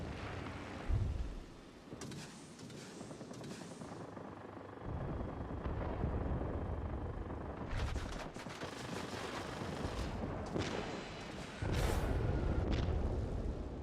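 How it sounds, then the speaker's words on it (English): Aircraft rockets strike sheds in World of Warplanes, loud bursts of impact and gunfire recurring amid steady engine roar, with several heavy blasts spaced across the stretch. "the 3 rockets aren't quite strong enough to take the sheds out"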